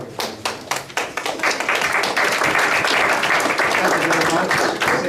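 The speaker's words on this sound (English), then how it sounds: "Big round of applause, guys" An audience at a leadership and mentoring day event applauds, with scattered individual claps at first swelling into dense, sustained clapping that fills the rest of the moment.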